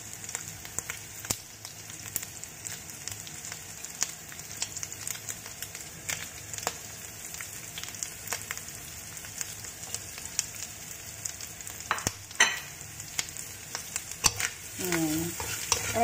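Onion and garlic fry in a pan with a soft, steady crackle and an occasional stir or scrape, fairly quiet and close, with a few sharper pops near the end.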